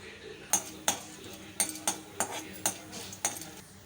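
Asafoetida frying in hot oil in a pan is stirred with a metal spoon that strikes the pan in about eight sharp, evenly spaced clinks, heard close over a low sizzling background.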